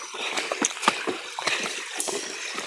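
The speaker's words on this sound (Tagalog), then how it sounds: "Yun ang sapa oh." A small, shallow stream running low on water after the rains have stopped, with a steady close-up wash of gurgling and light splashing broken by small bursts of trickling water.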